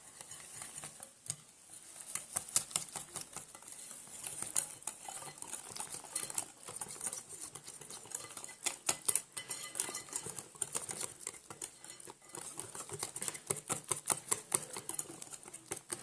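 Semolina cake batter with orange is stirred in a bowl, a spoon scraping and tapping in quick irregular strokes, close and fairly quiet, with no talk.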